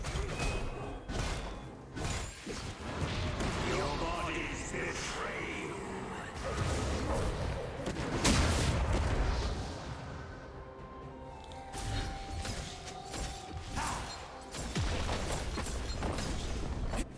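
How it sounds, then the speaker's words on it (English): A turret crumbling in a League of Legends top-lane match between Qiyana and Jax, with thuds, booms and whooshing mechanical crashes layered over dense game sounds for several seconds, peaking midway, with talk present. "Red team's turret has been destroyed."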